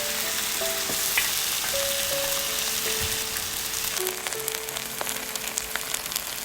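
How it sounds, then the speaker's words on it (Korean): Webfoot octopus in perilla oil fries hard over high heat, a dense crackling sizzle close by, with sporadic utensil clinks and scrapes building toward the end. "센 불에서 쭈꾸미를 넣어 볶아주세요."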